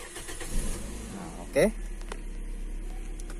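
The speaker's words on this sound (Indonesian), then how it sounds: "Mesin kita hidupkan dulu tentunya." Automatic car's engine started by the key, a brief cranking burst that catches into a steady low idle, with someone speaking briefly before it.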